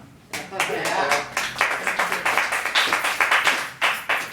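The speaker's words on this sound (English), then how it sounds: "Clap, y'all." Steady applause from an audience at a poetry reading, many hands clapping in a dense, continuous patter that holds for several seconds, with some voices mixed in.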